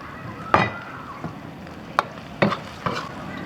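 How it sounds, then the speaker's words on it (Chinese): Onion and chili are stir-fried in a wok for a pickled-chili pork intestine dish: a low, steady sizzle with about five sharp spatula scrapes and clanks at uneven intervals. "给它炒一会就可以了。"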